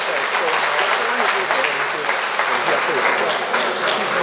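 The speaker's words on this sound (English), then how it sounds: "let's give them another round of applause" Sustained applause from a large crowd of retirees at a monthly association gathering, steady dense clapping throughout with no pauses, fairly close and loud.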